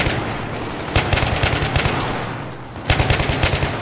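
Battlefield 3 video game gunfire: two loud rapid automatic bursts, one near the start and one near the end, over a continuous backdrop of battle noise; no voices.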